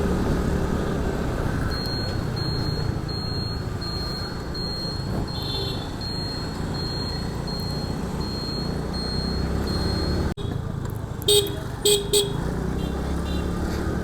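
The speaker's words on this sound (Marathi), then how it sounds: "यार हॉर्न देतोय तर तरी इकडे बघत नाहीये," Car horn tooting in city traffic during a scooter ride on a Jupiter, with a couple of short beeps near the end over steady road and engine noise.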